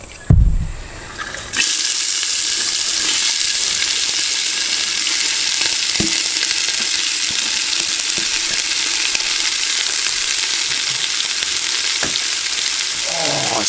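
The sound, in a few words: onion sizzling in hot oil in a potjie over charcoal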